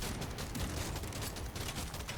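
A dense, crackling barrage of overlapping bursts as enemies blow up in the video game Deep Rock Galactic Survivor, loud and continuous for about two seconds with no pauses.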